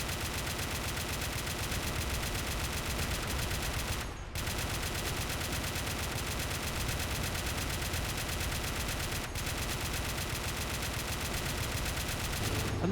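Dense, sustained automatic weapons fire in a British armoured assault battle game, layered machine guns and rifles crackling nonstop, with two brief breaks in the barrage.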